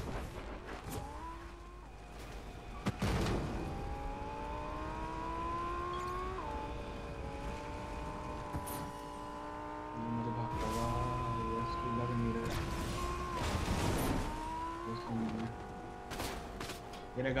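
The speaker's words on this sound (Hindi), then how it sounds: "मेरे गाड़ी दिख रही है ना, गाड़ी आवाज आ रही है" A vehicle drives through a battle royale video game, its engine whine rising and shifting in steady harmonic tones, joined by sharp bursts of gunfire, with people talking over the game sounds throughout.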